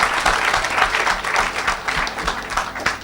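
A church congregation at a Saturday deliverance service claps in dense, steady, close applause for about three seconds, with no voices over it.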